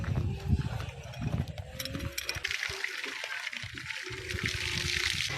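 Water running from a newly repaired faucet inside a small shop at a mini farm, a steady splashing trickle with faint background noise and no talking over it.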